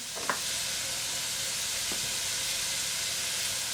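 Peppers sizzle in a hot pan with a loud, steady frying hiss throughout, broken by a couple of faint clinks near the start.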